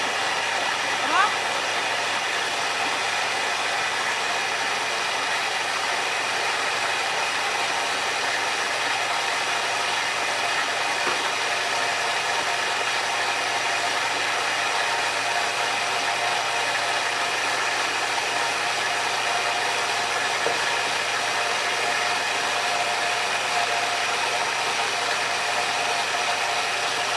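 A blender running continuously while making juice, a steady loud whirring motor roar throughout with no pauses.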